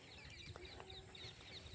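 Chickens by a fence cluck softly in short, scattered bursts, faint and somewhat distant against quiet outdoor background noise.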